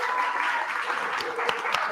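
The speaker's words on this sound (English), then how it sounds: "Give them another round of applause." A studio audience at a late-night talk show gives steady, fairly loud applause that continues throughout, with a few distinct sharp claps standing out toward the end.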